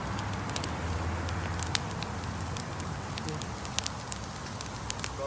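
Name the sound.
campfire burning and crackling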